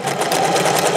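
A vintage sewing machine stitches scallops on fabric, its close, steady mechanical whirr holding a fast, even rhythm throughout.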